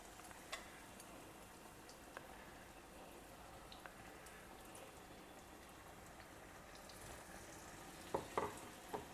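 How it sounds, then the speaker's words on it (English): Banana slices coated in batter deep-frying in hot oil, a steady continuous sizzle at low level with a few brief louder pops near the end. "the banana slices in the batter and deep fry it"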